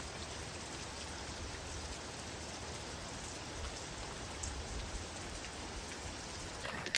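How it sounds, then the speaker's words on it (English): Steady rain falling in a storm, a dense even hiss of drops on surfaces that continues unbroken, with no voices. "But it is raining."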